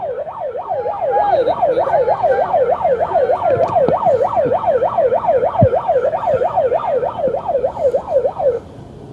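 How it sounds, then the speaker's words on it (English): A loud wailing siren at a street vigil in Washington, DC, rising and falling rapidly and steadily, like an emergency vehicle close by, sounding continuously for several seconds before cutting off. "Sirens for freedom."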